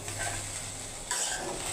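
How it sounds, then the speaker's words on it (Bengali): Leftover rice and egg fry in a pan with a steady sizzle, joined by a brief stirring scrape, close and alone. "কালকে অল্প করে ভাত রয়ে গেছে, ভাতগুলা ভাজি করে নিচ্ছি।"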